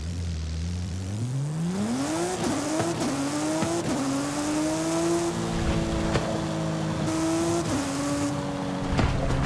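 A race car engine in the video game Forza Horizon 5, revving up through rising gear pulls with brief dips at each shift, loud and continuous with tire noise underneath.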